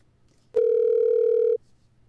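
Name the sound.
telephone call connecting tone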